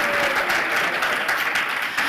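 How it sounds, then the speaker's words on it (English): An audience claps after a dance performance, a dense, steady round of applause that carries on loudly for a couple of seconds. "One more round of applause,"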